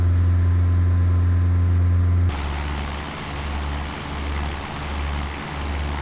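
Propeller airplane engine in Microsoft Flight Simulator X, a steady loud drone that abruptly changes at takeoff into a rougher, pulsing rumble with wind noise as the aircraft climbs away.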